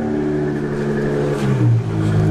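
A Chrysler 300's engine idles and then revs up as the car is pulled out, a loud, close rising growl with a clear pitch shift near the end.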